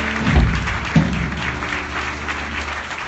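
Audience applause at a concert at The Birchmere, a steady wash of clapping from a crowd heard alone at moderate loudness, with a couple of louder thumps near the start.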